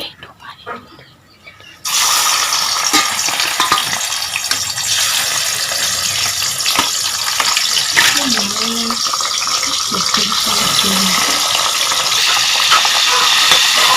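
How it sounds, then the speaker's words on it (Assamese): Borali fish frying in a pan with a low flame sets off a steady, loud sizzling hiss after a quiet opening, with a voice briefly talking over it. "বৰালি মাছখিনি ভাজি লম অলপ কম কৰি"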